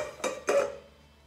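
Two quick, light clunks a fraction of a second apart as squeezed lemon halves are dropped into a metal pot, close and fairly quiet, with a brief ring fading after the second.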